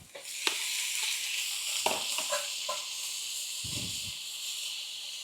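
Cubed steak hitting a hot pan and sizzling, a steady bright hiss with scattered pops and crackles, plus a few clanks and scrapes of stirring, close and moderately loud with no talking.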